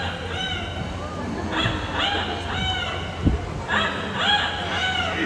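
An Amazon parrot imitates a rooster's crow in several shrill, wavering calls at close range, with low background chatter and a brief thump in the middle.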